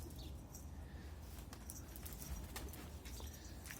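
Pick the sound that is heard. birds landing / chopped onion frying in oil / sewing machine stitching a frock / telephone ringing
birds landing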